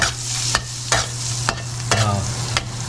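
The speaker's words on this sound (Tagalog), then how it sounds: "Lagyan natin butter. Yan. Kailangan halo-halo agad." Butter stirred briskly in a hot pan for buttered shrimp, a spoon scraping the pan in several sharp strokes about every half second over a constant low sizzle, with no voices.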